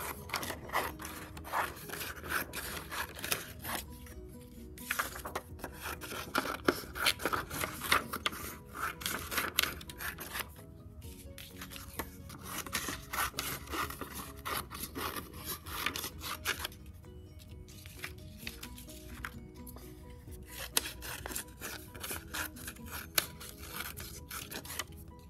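Cut paper strips rustle and scrape as they are woven together for an op art weaving, with soft close rubbing and brushing sounds that rise and fall unevenly, alone and without talk.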